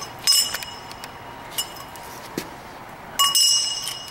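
Metal wrench clinking during a brake change, with a bright ringing clink near the start, a few faint taps in between, and a second sharp clink near the end, with no talk.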